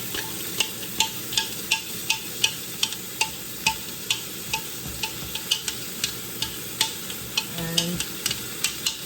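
Zucchini and peppers stir-frying in a hot pan: a steady sizzle underneath regular scraping strokes of a utensil, roughly one every half second, close and moderately loud, with no talking.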